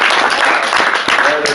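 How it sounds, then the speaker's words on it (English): Brief burst of audience applause during a Nashville housing tour, a short, dense patter of clapping from a group that holds steady for the full moment. "take a round of applause."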